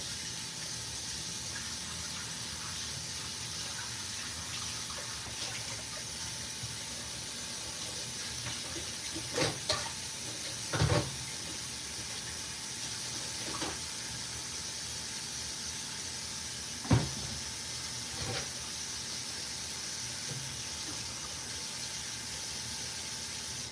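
A kitchen tap runs in a steady, even hiss of water as a bowl is washed in the sink, with a few faint clinks over the constant flow and no speech.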